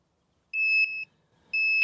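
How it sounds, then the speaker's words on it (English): Key programming tool plugged into a 2018-2021 Toyota Tundra emits clear, high electronic beeps: one longer double tone, a short pause, then another beep beginning, close and clean with no talk. "First it'll beep twice like that, and then it'll begin a series of continuous beeps."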